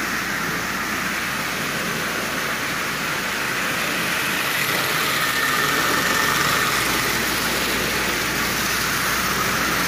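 A Marx 999 tin toy train engine runs at half power, giving a steady, continuous mechanical whir and hum with a buzzy rattle, close and unbroken throughout, with no talking.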